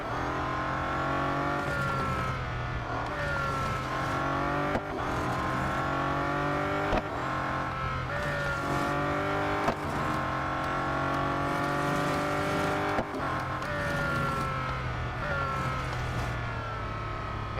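The Bugatti Centodieci in the Real Racing 3 racing game roars steadily at high revs for the whole lap, with repeated gear shifts marked by brief drops and rises in engine pitch, loud and continuous with no talk.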